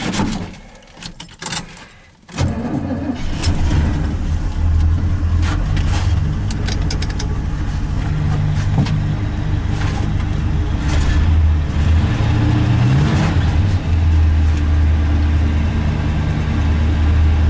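An old, ratty pickup truck's engine, its second since purchase, fires up after a few clatters and settles into a loud, steady idle close by, with no talking.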